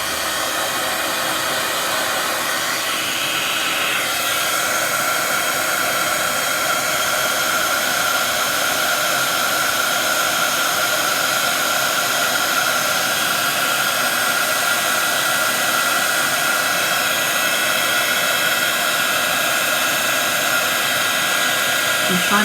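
A heat tool blows steadily as it melts embossing powder on a Christmas card, a loud unbroken hiss and whir that holds at constant level throughout, close up and alone.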